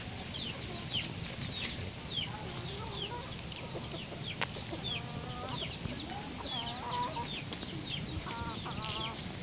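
Chickens cluck softly and repeatedly nearby while chirping birds sound in the background, with a low murmur throughout.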